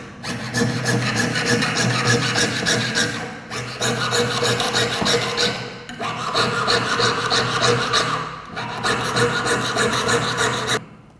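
A jeweler's saw rasps back and forth through metal while cutting out a circle, in four long, steady, close passes of rapid strokes separated by brief pauses.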